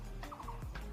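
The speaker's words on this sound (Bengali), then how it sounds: "পাখির আওয়াজগুলো একদম রিংটোনের মতো সব শোনা যায়।" Hill birds call outside an open bedroom window in Gangtok, Sikkim, with a few short, faint chirping notes over a steady low background hum.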